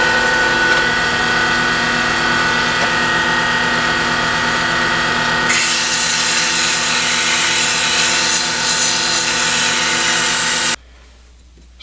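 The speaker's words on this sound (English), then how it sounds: "We'll also sand that a little bit." Steady, dense abrasive whir of a power sander working a wooden Christmas ornament, close and loud, with a shift in tone partway through and an abrupt stop near the end.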